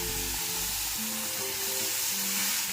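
Turmeric and spice paste hits hot oil after bay leaves have been fried, giving a loud, steady, close sizzle and crackle that keeps going without pause and with no talking.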